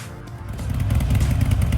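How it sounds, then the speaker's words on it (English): A 2010 Harley-Davidson Iron 883 motorcycle rumbles nearby with a deep, throbbing engine note that swells slightly over a couple of seconds. "This is a 2010 Harley Davidson Iron 883. This was my second motorcycle of my entire life"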